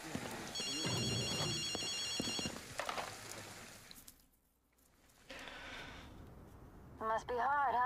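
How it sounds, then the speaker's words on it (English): A payphone in GhostWire: Tokyo rings in repeated electronic trills early on, followed by clicks and a lull, then a warbling electronic tone at the end, with a voice talking over parts of it. "Do you hear a phone? That's definitely odd."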